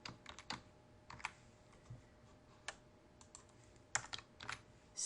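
Code is typed on a computer keyboard in quiet, close, irregular bursts of light key clicks with short pauses between them.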